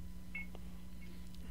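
Telephone line tones as a call is taken on a broadcast, a few short high beeps over a steady low electrical hum, quiet and isolated without talk.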